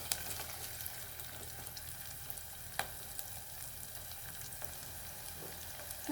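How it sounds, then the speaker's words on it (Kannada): Chopped green chilies sizzle in hot oil in a pan, a close, even, continuous frying crackle with a couple of brief sharper clicks from stirring. "ನಾನು ಆಗ ತೋರಿಸಿದ ಹಾಗೆ ಹೆಚ್ಚಿಟ್ಕೊಂಡಿರೋ ಹಸಿಮೆಣಸಿನಕಾಯಿ ಹಾಕ್ತಿದ್ದೀನಿ."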